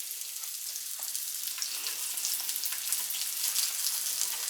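Eggs frying in a pan give a steady, close sizzle with fine crackling pops that runs evenly throughout, with no voices.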